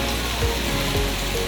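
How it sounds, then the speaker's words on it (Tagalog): Heavy rain pours down outdoors at Sentosa as a dense, steady hiss and patter with no break and no voices. "Lakas ng ulan."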